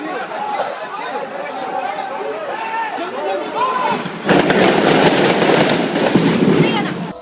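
Sharp gunshots and crackling pops burst out amid a chattering crowd, growing louder and denser partway through, at a street protest in Brazil in June 2013.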